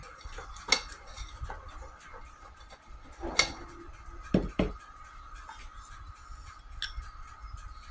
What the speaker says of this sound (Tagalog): I-cream muna natin yung butter.